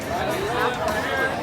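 A crowd of theme park guests walks out in the rain, forming a dense, steady babble of many nearby voices with rain hiss underneath.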